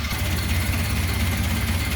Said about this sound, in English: I want you to at least be able to see that engine running underneath there.